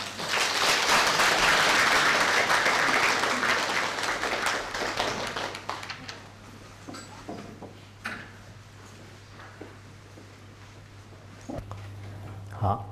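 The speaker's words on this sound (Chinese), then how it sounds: "下面让我们以热烈的掌声有请仁波切" Loud applause from an audience at a Buddhist lecture at Nanjing University welcomes a Rinpoche, swelling for a few seconds and then thinning out into scattered claps and a quiet room.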